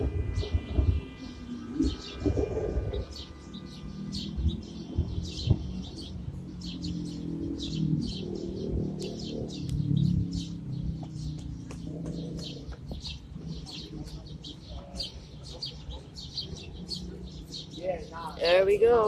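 Loud flock of birds nesting in an urban city, dense chirping and cooing calls running throughout over steady background noise, with occasional nearby talking.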